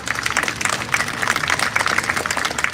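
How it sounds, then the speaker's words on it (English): An outdoor crowd at the Willard, Ohio sesquicentennial opening ceremony applauds volunteers, with lively, fairly loud clapping that stays steady through the short stretch. "Let's give them a round of applause."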